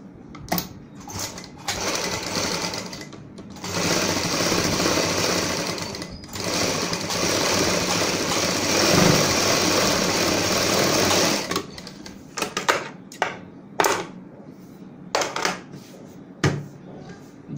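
A sewing machine stitches a strip along a blouse back neckline, running in long steady bursts broken by short pauses and a few quick stop-start runs near the end, close and loud.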